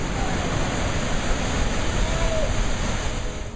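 Ocean waves surge steadily into Queen's Bath, a lava-rock tidal pool on Kauai's rugged Princeville coastline. The roar of the surf is continuous and broadband, loud and close, with wind noise mixed in.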